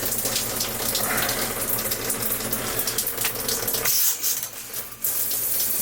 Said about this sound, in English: now we're getting nice water flow here.